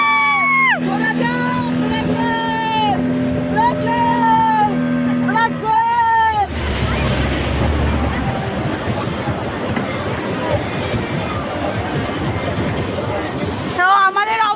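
A boat ride on the water near Digha, with a motor's steady drone and water rushing beneath loud overlapping voices and a crowd's chatter, the noise continuous and close throughout.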